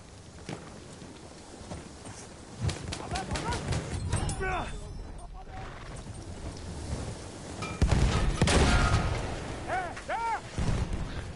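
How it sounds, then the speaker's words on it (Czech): A horse gallops across a Battlefield 1 battlefield with hoofbeats pounding amid gunfire, artillery booms and whistling shells, loud and chaotic throughout. "Přijel kůň a rozjebal je."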